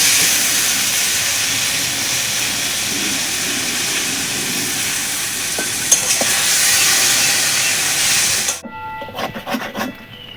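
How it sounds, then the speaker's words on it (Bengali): Sesame seeds frying with softened, salted onions in a pan, a loud continuous sizzle with scraping stirs, a sharp knock near the middle, then the sizzle cutting out into a few light clinks and taps. "এবার তিলটা দিয়ে ভেজে নেব"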